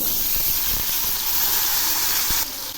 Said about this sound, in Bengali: এই আলুগুলোও খুব সুন্দর করে ভেজে নেব। এমনভাবে ভাজবো যাতে ভাজতে সেদ্ধ হয়ে যায়